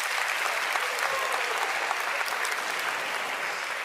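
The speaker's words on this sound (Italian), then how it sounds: "Facciamo un applauso anche dai nostri ragazzi." An audience of young people gives steady, dense applause for Giuseppe Conte, even rapid clapping filling the whole stretch without pause.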